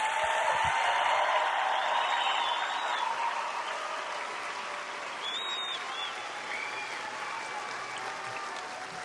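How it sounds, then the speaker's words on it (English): Steady, fairly distant applause from an audience at an Air Force airman's coin ceremony for graduating trainees, a continuous wash of clapping that slowly fades. "Let's give them a round of applause."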